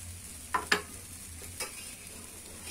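Sweet dosa batter made from sathipindi, poured thick and left unspread on a hot pan, sizzles softly and steadily, with a few sharp clicks and taps of utensils near the pan.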